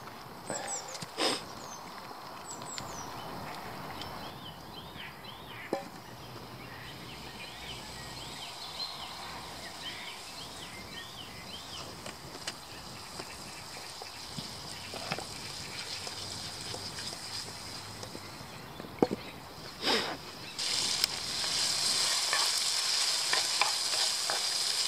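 Rice boils in a pot on a camp stove outdoors in the woods, a soft, steady bubbling and hissing simmer with a few clinks and knocks, getting slightly louder near the end.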